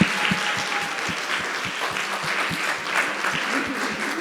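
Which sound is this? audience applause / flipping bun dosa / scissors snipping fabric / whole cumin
audience applause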